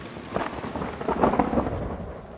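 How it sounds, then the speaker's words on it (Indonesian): Heavy tropical rain drums down in a film scene with thunder rolling low underneath, a loud, dense and continuous downpour that swells slightly midway, with no voices. "Saat hujan deras,"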